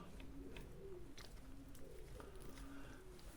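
Soft, low pigeon cooing repeats in short rounded phrases, fairly faint, over a quiet background with occasional light rustles.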